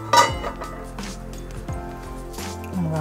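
A metal lid clinks onto a pot of medicinal porridge as it is half covered, with one sharp metallic clink at the start, then quieter scattered knocks and scrapes nearby.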